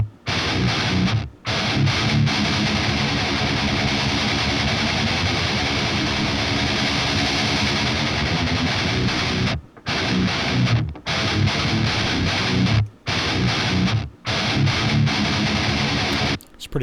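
Heavy distorted electric guitar riffing loudly and continuously with brief stops, the tone dark and muffled before any EQ brightening.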